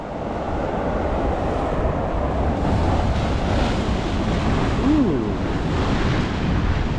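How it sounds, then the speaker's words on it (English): Strong ocean waves crash continuously against rocks on a beach at fairly high tide, a steady broadband roar of surf with wind buffeting the microphone throughout. "The waves are crashing strongly"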